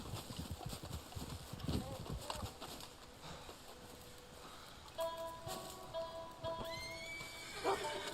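In Red Dead Online, a black Arabian horse gives a loud, wavering neigh that rises and falls, after soft hoof clops and shuffling at the start, with faint chatter underneath.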